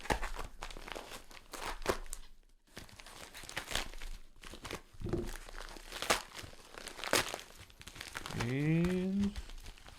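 A shipping package is cut open, giving repeated crinkling, tearing and crunching of packaging material close by, with brief pauses and a short squeaky scrape near the end.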